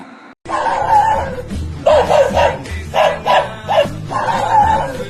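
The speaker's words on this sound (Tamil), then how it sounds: "ஊர் நாய்மானி நீ ஏன் குலைக்கிற?" A dog barks in repeated clustered bursts, loud and close, with short gaps between the volleys and a busy noisy background throughout.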